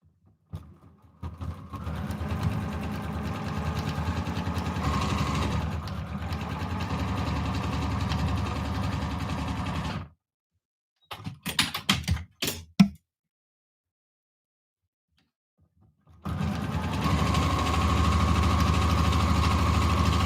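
A sewing machine stitches quilt pieces in a steady, motor-driven hum of close mechanical ticking that runs about ten seconds, stops, gives a few short bursts, falls silent, then resumes continuously.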